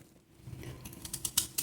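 A knife cuts pricked carrots into pieces for murabba, producing a quickening run of crisp clicks and chops close by after a quiet start.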